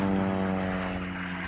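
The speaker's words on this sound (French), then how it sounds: "Et l'avion qui repart." A propeller airplane drones away after dropping skydivers, a steady harmonic engine hum at moderate distance that holds evenly through the short stretch with no talk.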